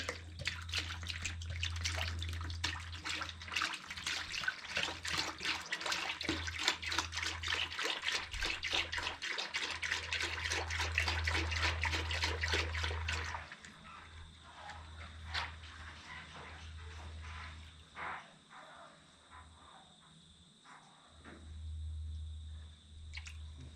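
Coolant concentrate pours steadily into the radiator of an International 434 tractor, a dense gurgling liquid rush for about thirteen seconds, then slowing to scattered drips and small splashes over a low background hum.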